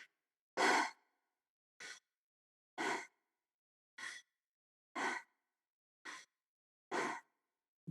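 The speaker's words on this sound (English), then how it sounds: "you're breathing in and out through your mouth" Quick guided breathwork, breathing in and out through the mouth: seven separate close, airy breaths in a steady rhythm, each a short whoosh with silence between, and no talking.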